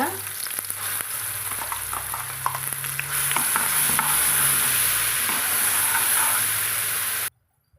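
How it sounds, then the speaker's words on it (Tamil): Onions browned with ground masala sizzle loudly in a pan while a spoon turns them, a continuous close frying hiss with repeated scraping strokes that swells midway and then cuts off abruptly. "வெங்காயம் ஓரளவுக்கு ப்ரௌனிஸாக வந்ததையும் நம்ம தரைச்சி வச்சுக்கிற மசாலாவை சேர்த்து வதக்கலாங்க"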